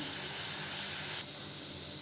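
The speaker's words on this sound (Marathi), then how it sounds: "इकडे मी एक कढई घेतली आहे, त्यामध्ये आपण आता अर्धा पेला पाणी घालू।" Water poured from a glass into a kadhai, a steady splashing hiss that runs for about a second before dropping to a softer, continuing trickle.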